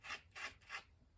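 Sanding stick with sandpaper rubbed against glue-coated fingers, three quiet, even rasping strokes in a steady back-and-forth rhythm, close up and alone.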